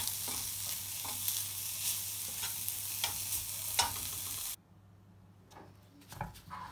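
Steady crackling sizzle of garlic frying in a pan with scraping stirs, then the sizzle drops away, leaving a few quieter clatters near the end.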